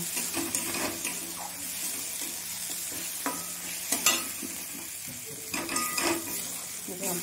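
Food frying in a pan until reddish-brown in a Bengali kitchen, with a steady low sizzle under repeated stirring scrapes and clinks of a utensil against the pot, a few sharper knocks scattered through.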